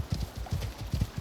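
Horse hooves clip-clopping in the survival video game Icarus, a quick regular trotting beat of soft thuds, close and steady with no talk over it.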